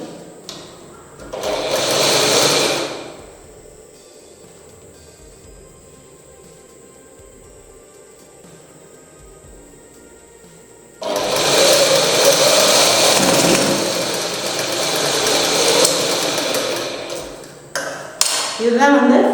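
A sewing machine stitches a small folded hem edge in two loud bursts of rapid, buzzing stitching separated by a quiet pause, with close clattering and a few brief clicks at the end.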